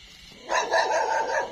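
Dogs on a rural Vietnamese farm where chickens are raised burst into barking and yipping, a short loud flurry starting after a quiet moment and continuing to the end.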